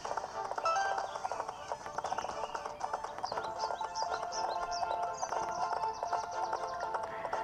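Horse hooves clip-clop at a gallop in the Horse Life 4 video game on the 3DS, a steady fast rhythm under game music and effects, fairly loud and continuous throughout.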